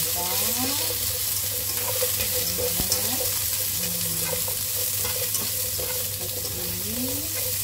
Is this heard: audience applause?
no